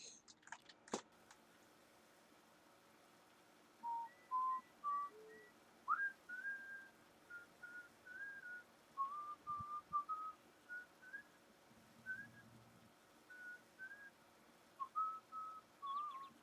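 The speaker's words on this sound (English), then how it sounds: "Sorry for the whistling. I've been doing that a lot lately" Someone whistles a meandering tune while playing a farming video game, a series of short, clear, soft whistled phrases in steady rhythm over quiet game background, with a few faint clicks.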